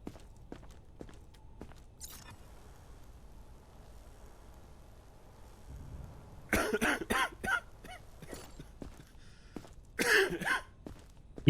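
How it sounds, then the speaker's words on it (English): A character in a zombie video game coughs in two harsh bursts, a rapid cluster of coughs followed by another short fit, over quiet background game noise and faint footsteps. "You didn't have that cough yesterday."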